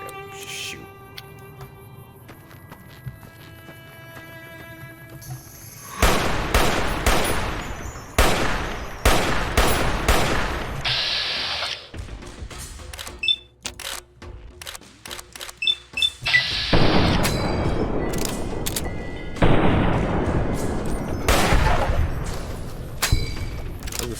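Gunfire in Fallout: New Vegas rings out as loud bursts of shots in clusters from about six seconds on, with game sound effects and thuds between volleys and no talking.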